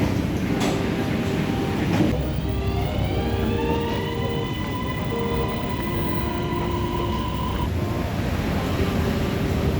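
A Bangkok MRT metro train at a station gives off a rising and falling electric motor whine over a steady rumbling roar, with a few sharp clanks early on.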